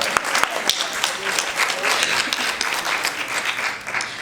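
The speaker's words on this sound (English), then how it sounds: "we can clap up for that" Audience at a birthday commemoration symposium for Queen Mother Moore applauding: loud, close, continuous clapping with a few sharp individual claps standing out and crowd murmur mixed underneath.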